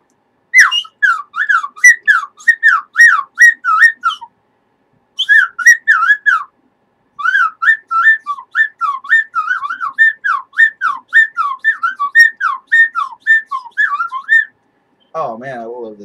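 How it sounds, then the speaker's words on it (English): A slide whistle plays loud, close runs of short gliding notes in quick rhythmic phrases, with a few pauses between them and a lower wavering sound at the end. "Oh man, I love this slight whistle here."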